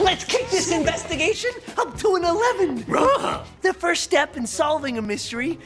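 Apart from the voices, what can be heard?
No distinct noise like a dog, phone or traffic.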